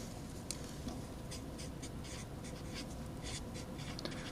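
Marker or chalk writing on a board, a continuous scratchy stroke sound with short rhythmic squeaks over a steady room hiss, close and fairly quiet, no talking.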